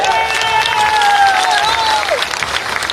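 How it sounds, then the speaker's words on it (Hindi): Crowd clapping and cheering at a BJP political rally in Rewa's Semariya assembly constituency, a loud, sustained burst of applause under a ringing, echoing public-address tone. "एक बार बिंद क्षेत्र के लिए जोरदार तालियां बजा के"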